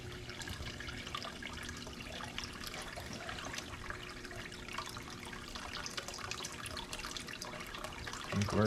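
A small pump in a budget homemade bait tank runs steadily, keeping up a soft, continuous trickle and splash of water close by, with no talking.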